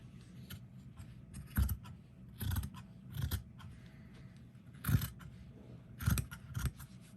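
Scissors cutting a sock in half: a series of soft, close snips and crunches, about six in irregular rhythm, quiet over a faint background hum.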